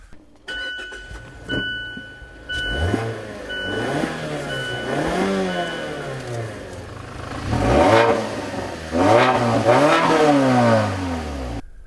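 A 2015 Mazda6 in sport mode on all-season tires accelerates hard on a tight race track, engine rising and falling through repeated gear changes as it climbs in pitch, loud and close from inside the car.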